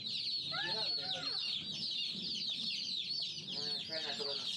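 Baby chicks peep and chirp steadily at close range while drinking water, with soft cluck-like calls and bursts of rapid cheeping rising above the flock's constant twittering.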